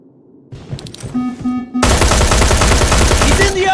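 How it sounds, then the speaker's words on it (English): Gunfire erupts in the shooter game Terminator: Resistance, starting with a few scattered shots and then breaking into a loud, dense, continuous burst of automatic fire that fills the rest of the moment. "Fire at will!"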